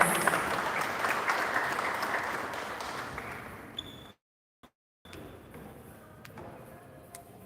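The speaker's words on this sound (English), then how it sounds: "Let's welcome him with a round of applause." An audience at a university AI hackathon claps to welcome a speaker, a dense burst of applause that fades over a few seconds, cuts out briefly, then trails off into scattered claps.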